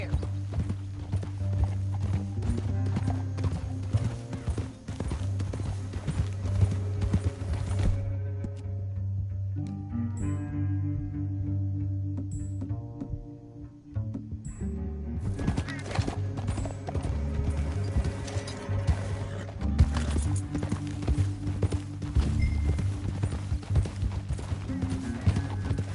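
Horses galloping in the video game Red Dead Redemption 2, steady rhythmic hoofbeats over a low rumbling score, briefly easing before the gallop resumes at full pace.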